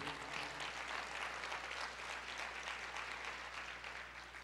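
A church congregation claps and cheers during a Portuguese-language sermon, a dense, sustained wash of applause that stays loud throughout before easing slightly at the end.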